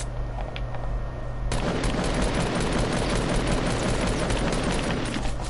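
Sustained bursts of video game gunfire from Fortnite, rapid overlapping shots forming a dense, continuous crackle that grows louder and busier after the first second and a half.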